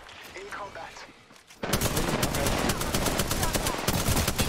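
Rapid automatic gunfire in Apex Legends bursts in loud and dense partway through and keeps rattling to the end, after a stretch of quieter game noise and brief voice.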